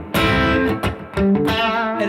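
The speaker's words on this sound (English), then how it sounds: "It actually sounds like an amp drive, which is a rare thing to find on a pedal." An electric guitar through a Rockbox Boiling Point overdrive pedal with gritty, amp-like distortion plays a short chordal phrase, loud and close, with sustained notes ringing between strums.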